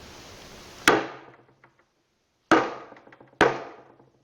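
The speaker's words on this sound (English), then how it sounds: "you pound down on the handle, and that'll drive it up on the shaft" A wooden hammer handle is pounded down against a piece of metal to drive it up onto the shaft. Three sharp, loud knocks are spaced apart, each ringing briefly and decaying, with quiet between them.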